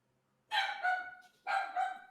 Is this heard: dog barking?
yes